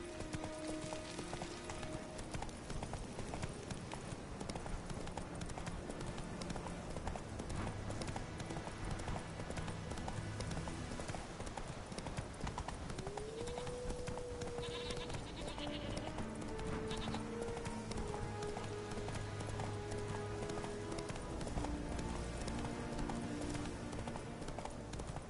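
In The Witcher video game, the horse Roach gallops with a dense, rapid clip-clop of hooves that runs steadily the whole way through. A brief bleat-like animal call sits among other faint game sounds.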